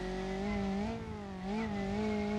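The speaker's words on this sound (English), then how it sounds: "Now we've got this high revving inline 4-cylinder." High-revving inline four-cylinder engine of a kei car in BeamNG.drive, a steady sustained whine with harmonics that dips briefly and climbs again, loud and close.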